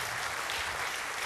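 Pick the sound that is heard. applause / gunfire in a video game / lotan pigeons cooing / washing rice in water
applause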